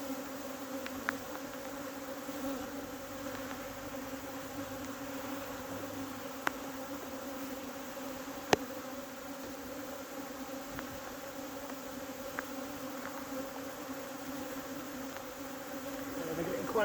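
A swarm of honey bees hums softly in a continuous, even buzz, faint and steady throughout, with a few small clicks and knocks nearby.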